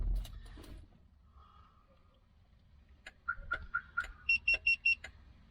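Viper car alarm on a 230SL chirping: a quiet lead-in, then a run of four short mid-pitched beeps followed by four louder, higher beeps in quick succession.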